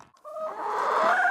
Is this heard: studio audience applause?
no